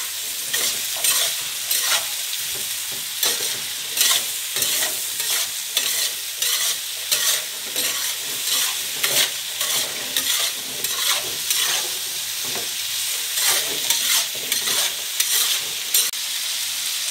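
Potatoes and vegetables fry and sizzle in a pan for vegetable paella while being stirred from both sides, giving a steady loud hiss with rhythmic scraping strokes throughout, close up and without speech.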